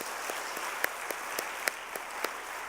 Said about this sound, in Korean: 다시 한번 격려의 박수 하겠습니다.